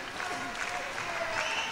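A concert audience at a community festival in Alta Gracia claps along, a soft, fairly faint patter of hands with bits of voice and music mixed into the background.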